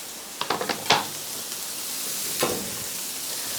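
Bacon crisping in a pan, used as a topping for reheated leftover tortillas, with a low steady sizzle and a few brief scraping clicks of a utensil against the pan, near and without talk.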